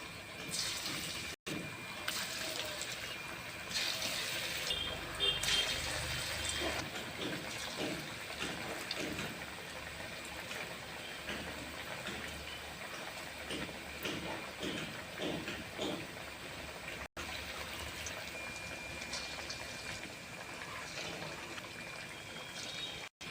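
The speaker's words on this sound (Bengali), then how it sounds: "তেলটাও গরম হয়ে গেছে। এবার বড়াটা ভেজে নেব।" Potato peel fritters frying in hot oil on a kitchen stove, a steady close sizzle and bubbling crackle running continuously with small pops and fluctuations throughout.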